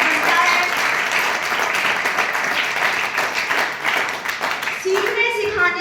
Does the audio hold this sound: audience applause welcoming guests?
yes